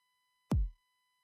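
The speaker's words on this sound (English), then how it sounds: "So kick 10 sounds like this." Single kick drum sample, Kick 10 in Audiotool, a short, punchy hit with a deep pitch-dropping thump that decays within about a quarter second, heard alone.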